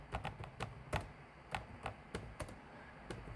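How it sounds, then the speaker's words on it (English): Keys clatter on a computer keyboard as a crypto wallet private key is typed in: quiet, irregular bursts of sharp clicks in small clusters, with no talking. "just typing it over in a moment."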